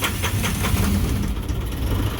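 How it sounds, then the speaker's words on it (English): An Isuzu diesel engine cranks for a long time and then catches, a loud, close mechanical roar with pulsing early on that settles into a rough-sounding run. "So that was an excessively long crank"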